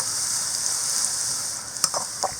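Onions sizzle in hot oil for a fish curry in an outdoor village kitchen, a steady close hiss with a few sharper crackles and stirring taps near the end.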